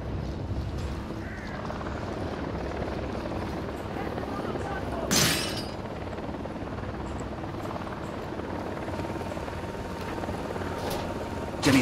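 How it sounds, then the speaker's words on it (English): Helicopter in Ghost Recon Wildlands approaching as a steady low rotor drone throughout, with a brief broadband whoosh midway; speech occurs over it. "Chopper's approaching."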